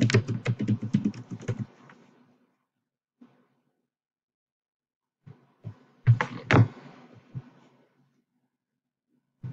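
Keyboard typing on a computer during a graphic design tutorial, a quick run of clicking keystrokes up front, then silence, then a second short burst of keys later, fairly close and clear.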